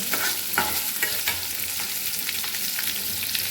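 Carrots and beans fry in oil in a home kitchen in Manali, a steady close sizzle punctuated by spatula stirring and scraping against the pan, with no talk.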